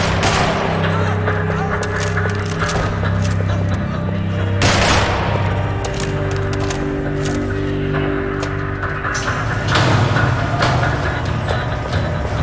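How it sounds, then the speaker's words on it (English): Rapid bursts of automatic gunfire echo through a parking lot in Max Payne 3, sharp repeated volleys and heavy booms layered over a low droning score, loud and close. "Another parking lot rattling with gunfire."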